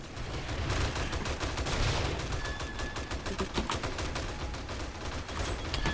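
Automatic turrets fire in the video game 7 Days to Die, a dense, continuous rattle of rapid gunshots lasting throughout, loud and close.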